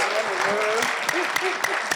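A round of audience applause for the moderator at a peace-building plenary session, steady clapping under a speaking voice with a few sharper individual claps standing out.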